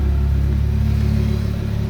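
Audi RS3 with a rebuilt DAZA five-cylinder engine idling steadily with its exhaust flap open, a deep, loud, even rumble close by with no talk.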